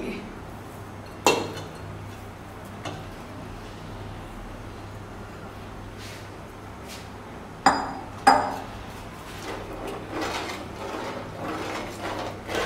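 Khoya being stirred into thick, cooked rice kheer in a pot, with a few sharp spoon clinks against the metal over a low, steady hum of background noise.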